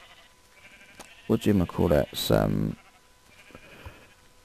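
Video game sheep let out a few loud, close bleats in a quick burst, with a voice talking softly before and after.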